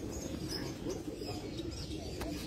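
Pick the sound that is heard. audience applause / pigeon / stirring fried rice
pigeon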